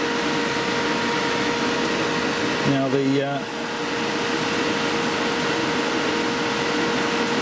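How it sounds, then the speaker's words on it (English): Cooling fan running steadily in an electronics workshop, a constant broadband whir with a faint hum under a brief spoken phrase. "Which is why you can hear the fan running in the background."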